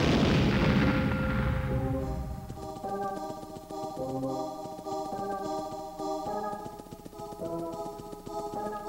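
A Bombette bomb in Paper Mario goes off in one loud, broad blast that fades into a lingering rumble while the game's music carries on.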